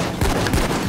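A Desert Eagle pistol fires in the heist video game Payday 2, giving a brief burst of loud, close shots that fill the short moment.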